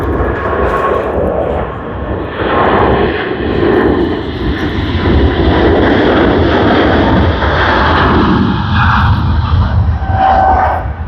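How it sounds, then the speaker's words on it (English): American Airlines Boeing 777-300ER on its takeoff roll at Sydney Airport, loud continuous jet engine roar that holds steady and slowly shifts in tone for about eleven seconds. "We should be getting the takeoff roll and the nice rotation."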